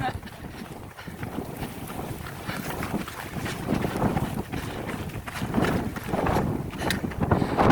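Gusty wind buffets the microphone on a desert mountain trail while a hiker runs, a steady broadband roar that swells and peaks toward the end, with a voice partly audible underneath.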